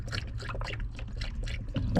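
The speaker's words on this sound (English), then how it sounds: "And let's pour it down the drain." About a liter of water poured from a bottle down a drain, a steady splashing trickle with bubbly gurgles, close and moderately quiet, running continuously for a couple of seconds.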